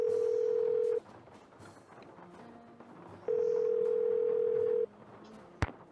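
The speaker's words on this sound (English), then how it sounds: "All right, let's call the cab company." A mobile phone in a video game calling a cab company, with a steady dial tone that sounds, pauses, then returns for about a second and a half, followed by a brief sharp click.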